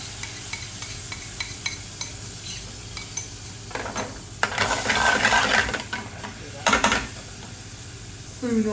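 Tomato puree stirred into frying bhuna onions for a restaurant-style chicken balti, with a spoon scraping the pan amid a steady sizzle that swells louder midway, plus a few light metallic clinks.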